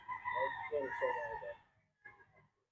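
A white Kelso gamefowl rooster at a game farm gives a fairly close crow lasting over a second, then a shorter trailing call, alone at moderate volume.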